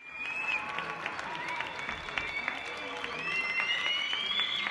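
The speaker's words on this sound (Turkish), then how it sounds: "vatandaşlar balkon ve pencerelere çıkarak sağlık çalışanlarını alkışladı" People on balconies and at windows applaud health workers, scattered clapping from many hands spread across the distance, with whistles and shouts mixed in and a voice speaking over the top.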